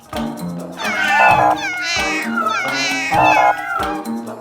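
A cat meows loudly up close, three drawn-out plaintive calls in a row, each rising and falling in pitch.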